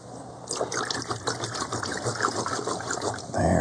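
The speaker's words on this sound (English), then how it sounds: "Wash the old brush." A paintbrush is swished and rinsed in a container of water, giving a steady, close liquid sloshing and trickling that runs throughout, ending in a louder burst of splashing.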